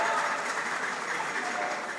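Audience applause for two quiz teams at the end of a round, a steady dense wash of clapping, fairly loud and continuous throughout, with no distinct voices over it.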